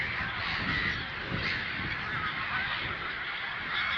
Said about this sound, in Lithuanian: Tvenkinukas su belenkiek vandens paukščių.